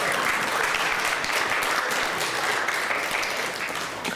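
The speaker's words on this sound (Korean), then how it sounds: "격려의 박수 한번 쳐주시기 바랍니다." Full, dense applause from a church congregation, a continuous wash of many hands clapping at steady volume that tapers slightly at the end, with no talk over it.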